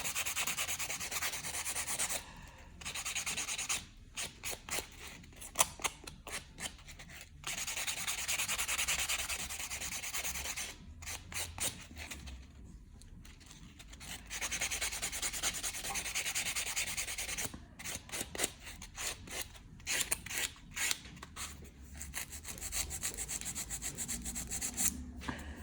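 A white 100-grit sanding block rubs back and forth over acrylic-coated nails in steady, raspy strokes, pausing briefly now and then; no one speaks.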